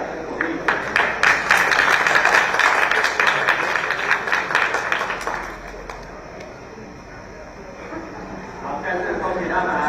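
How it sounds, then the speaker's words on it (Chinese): Audience applause at a bridge tournament, a burst of clapping for the first half that fades out, with a voice speaking over the later part. "大家给他掌声鼓励"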